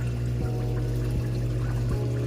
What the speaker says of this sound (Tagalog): Punuin na natin ng tubig tong flask.